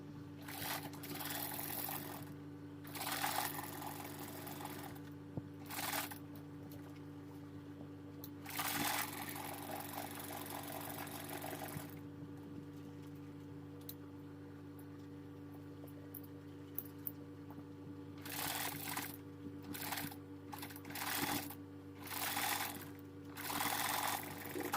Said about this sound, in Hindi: दोनों को इस तरह से सेंटर में रखते हुए बुकरम के बगल बगल सिलाई लगा लेंगे। तो चलिए अब इसमें सिलाई लगा लेते हैं।